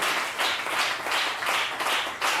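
A church congregation claps in a steady rhythmic beat, roughly two claps per second, moderately loud and continuous with no talking over it.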